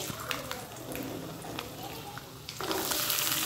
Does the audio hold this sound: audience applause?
no